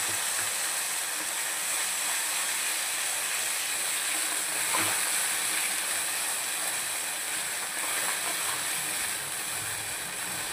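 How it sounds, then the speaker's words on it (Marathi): Cumin seeds and ground masala paste frying in hot oil for a paneer dish, a steady, fairly loud sizzle and hiss lasting throughout, with a faint stir or scrape near the middle. "छानपैकी बघा आपल्याला असं हे तेलामध्ये आपल्याला फ्राय करून घ्यायचं आहे"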